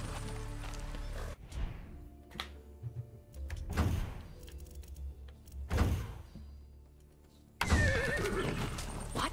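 A horse in the video game Far Cry 6 whinnies and snorts in several separate bursts, with hoof clip-clops and mechanical game sounds between them and a louder burst of noise at the end.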